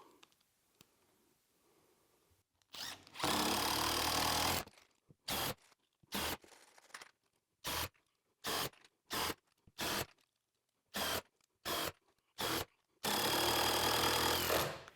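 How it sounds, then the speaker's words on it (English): A power driver sinks screws into floating shelf hardware: two long, loud whirring runs at either end, with a string of short bursts between them as each screw snugs down. "I'm just driving them down till they snug up"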